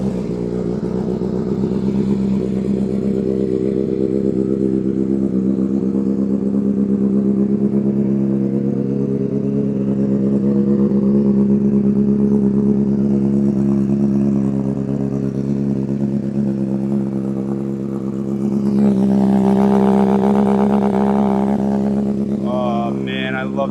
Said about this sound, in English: Get a little cold start.